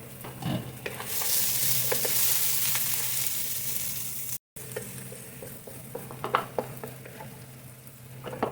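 Minced garlic sizzles in a hot pan with a steady, bright frying hiss, stirred with occasional soft scraping and clinks, close and continuous with a brief cut midway.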